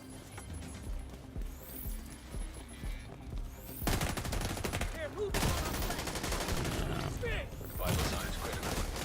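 TAC 52 rifle fire in The Division 2, first as scattered shots under a voice, then as dense rapid bursts of loud close gunfire mixed with other weapons in a running firefight.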